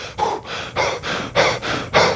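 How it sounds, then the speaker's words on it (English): Rapid, forceful breath-of-fire panting like zone 5 exercise breathing: about six sharp, evenly spaced huffs in quick rhythm, close and loud, with no talking. "Panting, literally."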